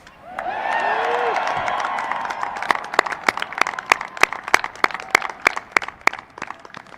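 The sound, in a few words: audience applause for a graduating cadet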